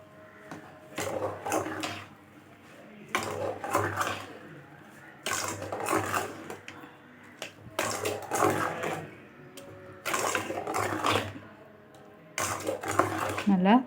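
Semolina and sugar being stirred together in a pan for pineapple kesari, giving repeated bursts of scraping and stirring at close range, separated by short pauses, with someone talking over it.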